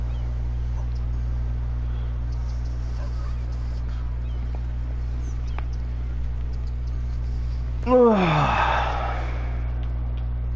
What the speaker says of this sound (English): Big yawn and stretch.